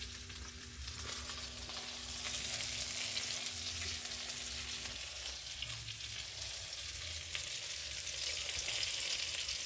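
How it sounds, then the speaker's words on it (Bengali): Rohu fish pieces fry in hot oil with a steady, dense sizzle that carries on for the whole stretch, close and even, with faint clinks and stirring beneath it and no voices. "এবার মাছটা ভাজা হচ্ছে"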